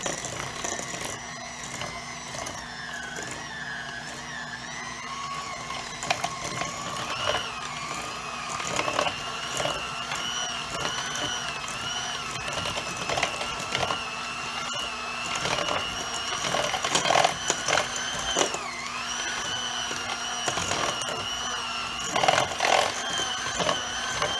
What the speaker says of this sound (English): I'm going to go ahead and mix all that on low.